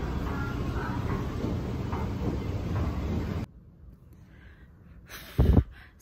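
An MRT metro train ride toward Taipei: a steady loud rolling rumble of the carriage for about three and a half seconds, then a sudden drop to quiet interior hum with a brief thump near the end.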